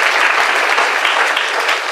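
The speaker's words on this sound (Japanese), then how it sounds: "拍手をお願いします。" Dense, steady applause from an audience at a university economics department open campus event in Shizuoka, filling the whole stretch evenly and loudly with no voices on top.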